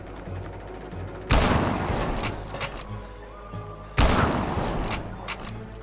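Two heavy gunshot bursts from shooting zombies in the Land of the Dead video game, each a sharp loud blast followed by ringing decay and clattering game effects, roughly three seconds apart.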